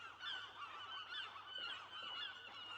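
Gulls gathering over a fish cleaning station call to each other, a continuous overlapping chorus of honking cries from several birds overhead, moderately close and steady with no talk.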